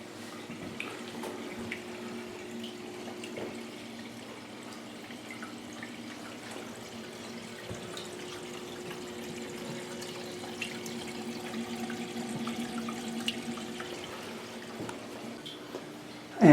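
A steady low hum of a small water pump with a soft trickle and bubbling of moving water, continuous and fairly quiet throughout.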